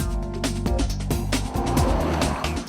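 A 2012 Mini Countryman S with a six-speed automatic is driven on the road, its engine note rising and shifting through gears with some tire noise, loud and close throughout.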